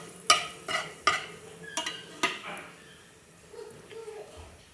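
Pumpkin leaf greens fried with black cumin are stirred in a pan, giving several sharp scraping strokes in the first few seconds that fade into a soft, faint sizzle.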